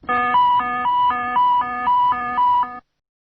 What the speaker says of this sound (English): a siren accompanies all other warning messages